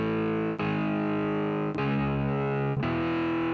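Distorted power chords of tonic and fifth with no third, played as a progression in a type beat, sustained and loud with a few sharp chord changes and no voices.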